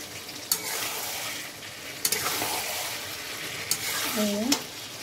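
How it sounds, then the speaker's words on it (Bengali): Fried soybean chunks are tossed in a sizzling pan, a steady frying hiss broken by three or four sharp spatula clacks, close and moderately loud, with a brief squeaky tonal sound near the end. "সয়াবিনগুলো একটু কষিয়ে নেবো হালকা করে"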